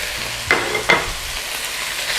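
Chicken is stir-fried with yellow, red and green peppers and onions for kung pao chicken, a steady close sizzle broken by two quick spatula scrapes.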